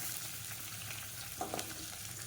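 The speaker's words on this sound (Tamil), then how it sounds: "சின்ன வெங்காயம் முறிச்சு வச்சுருக்கேன் பார்த்தீங்களா, அதை போட்டுக்கிறேன்" Small onions fry in a hot pan for an onion thokku, giving a steady, fairly quiet sizzle with a few brief louder crackles midway.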